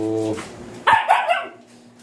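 A dog gives a couple of short, loud barks close by near a litter of puppies, following a brief whine or hum at the start.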